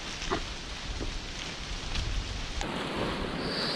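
Steady rain pours down on a mountain hike up Gunung Salak 2, a dense, continuous hiss of falling water and drops on surfaces, close and fairly loud throughout.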